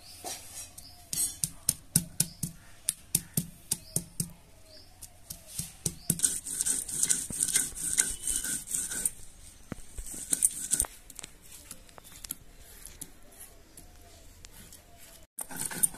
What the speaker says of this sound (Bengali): আদা রসুনটা আমি বেটে লব।